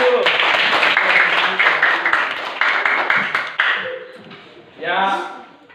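Clapping from a gathered audience at a teacher training session rings out loud and close, then thins and breaks off, followed by a short burst of voices.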